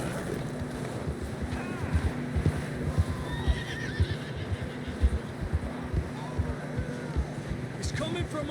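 Horse whinnies and hoof clip-clops from Red Dead Redemption 2, a game horse in distress, with repeated neighs over steady hoofbeats and a windy outdoor backdrop, fairly close and continuous.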